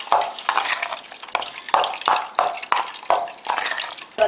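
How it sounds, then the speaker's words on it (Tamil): Fresh carrot juice sloshes through a large kitchen strainer, probably being stirred, in a run of close, wet swishing and dripping strokes about every third of a second, with no voice. "அதனால் முதல்ல இந்த மாதிரி ஒரு பெரிய வடிகட்டியில் வடிகட்டிடலாம். இது கொஞ்சம் ஈஸியாக இறங்கிடும்."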